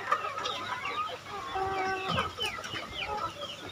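Several young free-range chickens cluck and chatter close by, overlapping short calls in a steady barnyard murmur with no talking.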